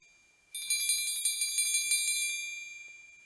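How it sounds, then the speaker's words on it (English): A bright metallic bell rings out as a call to dinner, a rapid train of repeated strikes lasting under two seconds, then fading away as the ringing decays into quiet. "The dinner bell rang."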